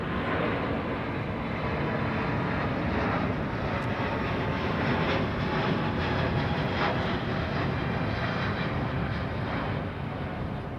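Asiana Airlines jet departing Heathrow, a steady broad engine roar holding at an even level throughout.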